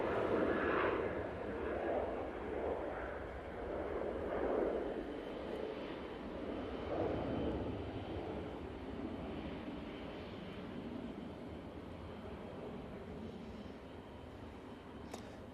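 Airliner taking off from Manchester Airport on a departure to Rio, its engine roar steady and distant, fading slowly over the whole stretch with no voices.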